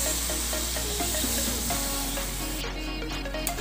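Chana masala bubbles and sizzles steadily in the pan just after hot water is poured in, a dense, continuous hiss close by that turns slightly thinner and more spattery toward the end.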